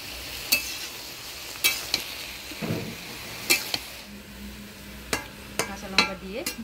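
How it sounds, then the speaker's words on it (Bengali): A spoon scraping and tapping in a pan of mustard pabda fish curry as green chillies and turmeric are stirred in, sharp metallic clinks at intervals over a soft sizzle. "কাঁচা লঙ্কা দিয়ে ভালো করে নাড়িয়ে নিলাম"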